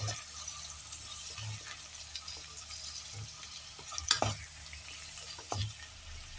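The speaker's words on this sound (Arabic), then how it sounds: "الأول نشوح الأول الصدوق لما ننزل الدهون بتاعته كويس" Alexandrian sudq sausage sautéing in a pan, a steady soft sizzle with occasional scraping stirs and a couple of brief louder clatters, close and alone without talk.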